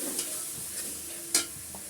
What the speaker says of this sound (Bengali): একটু তেলে আমি আদা রসুনটা কষিয়ে নিচ্ছি